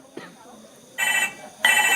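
A telephone rings in two loud bursts in an indoor home setting, with voices talking underneath.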